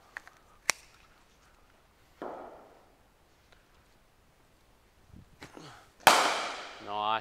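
A cricket bat strikes the ball during a junior batter's net session against fast bowling, giving a few sharp isolated cracks with quiet gaps between them and a louder hit near the end.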